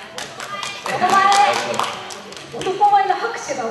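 Audience clapping at a boat racing fan meet-and-greet with racer Yuki Saika, two short bursts of scattered hand claps, close and uneven, with people talking in between.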